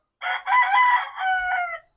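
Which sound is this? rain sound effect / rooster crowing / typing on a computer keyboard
rooster crowing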